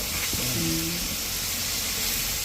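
Chopped tomatoes fry in a large pot for a big batch of biryani, giving off a steady, loud, hissing sizzle throughout, with a brief faint voice early on.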